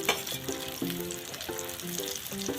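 Onions and green chillies fry in a pan on a wood-fired clay stove, a steady close sizzle that continues throughout under a faint tonal hum, with no voices.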